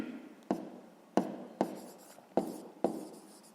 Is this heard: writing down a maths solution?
yes